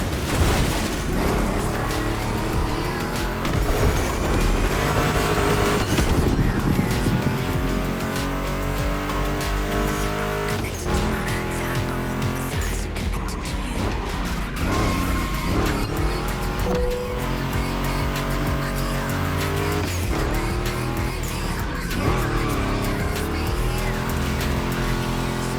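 A Ford Mustang GT muscle car races in the video game The Crew Motorfest, its engine revving up and down through gear shifts with tires squealing, loud and continuous throughout.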